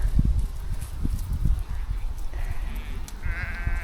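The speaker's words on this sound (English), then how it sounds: "your sheep come running to you" Sheep on a homestead farm bleat twice, a short call and then a longer wavering one, amid close rustling and shuffling noise as the flock moves nearby.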